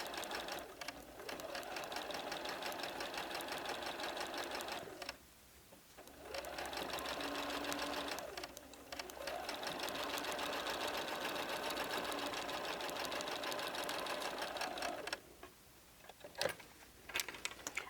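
A sewing machine stitches quilt blocks together along a gentle curve, running in long, steady bursts of rapid needle rattle with short pauses between seams, close and fairly quiet.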